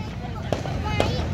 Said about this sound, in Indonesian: Oh, seneng nggak lihat kembang api?